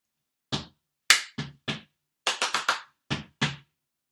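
Body percussion claps and slaps from the Stomp main groove, about nine crisp, dry hits in an uneven pattern with a pair and a quick cluster of three, close and alone with no talk.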